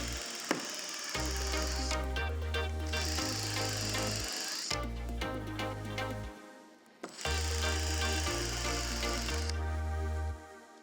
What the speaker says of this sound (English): whenever drilling into a fiberglass boat is I like to countersink the holes I just drilled